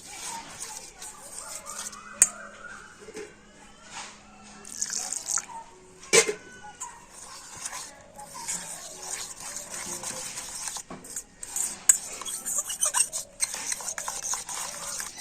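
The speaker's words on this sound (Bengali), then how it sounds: "তো একটা কাঁটা চামচ দিয়ে ভালো করে মিশিয়ে নিতে হবে।" A fork stirs and whisks flour-and-water batter in a bowl, giving soft scraping swishes with occasional sharp clinks against the bowl, close and fairly quiet, with brief pauses between strokes.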